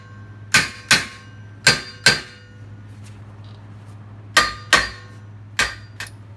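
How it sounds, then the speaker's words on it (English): A hammer taps on a broken wheel stud on a car, striking seven sharp, ringing metallic blows in quick pairs and singles with pauses between them, close and clear. "See if we can give it a couple of taps and get this thing off."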